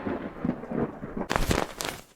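Thunder sound effect for a storytelling segment about a mythic giant bird, a low rumble that swells into a sudden loud crack and roll midway, with rain-like hiss and no voices.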